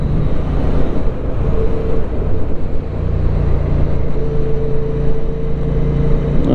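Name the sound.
QJ Motor SRV550 motorcycle engine while riding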